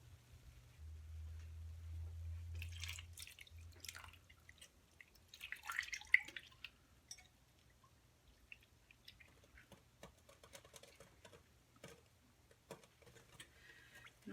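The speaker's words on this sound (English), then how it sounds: "I'll rinse that out and add it as well." Dye rinsed from a container and poured into a yarn-dyeing bath, heard as quiet close drips, trickles and small splashes with soft handling noises in between.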